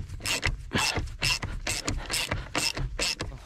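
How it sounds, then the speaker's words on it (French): A wheel comes off a Peugeot 106 by hand after a flat on the tyre sidewall. Close, quick metallic ratcheting bursts come in a rapid rhythmic series. "je dévisse la roue"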